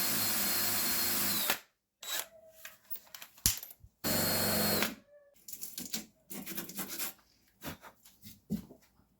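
A power drill bores holes for joining two halves of a homemade windvane self-steering gear for a sailboat, running in several bursts with brief pauses and workshop handling noise between them.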